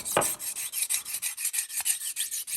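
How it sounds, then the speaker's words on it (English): A dull kitchen knife is sharpened on a whetstone with rapid, rhythmic rasping strokes, about a dozen even back-and-forth scrapes, close and clear, with no talking. "once you start sharpening it, it basically removes all the it removes the dull edge of the knife"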